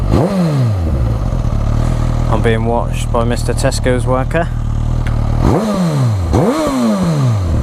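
A Suzuki GSX-S1000 with its standard exhaust revs loudly up close, with sharp rising and falling engine sweeps at the start and end and a steady idle between, while someone talks over it.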